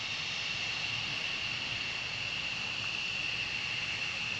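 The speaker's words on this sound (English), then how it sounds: "you're getting the sound of the engines" Steady, loud roar of military jet aircraft engines at RAF Lakenheath with a high whine on top, unbroken throughout.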